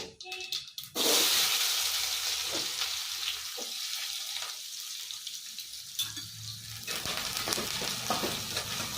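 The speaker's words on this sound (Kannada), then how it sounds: "ಈರುಳ್ಳಿ ಚೆನ್ನಾಗಿ ಫ್ರೈ ಆಗಬೇಕು" Onions tossed into hot oil with cloves and a piece of cinnamon for a chickpea, pea and spinach curry set off a sudden loud sizzle after a second, then a steady close frying hiss with some stirring.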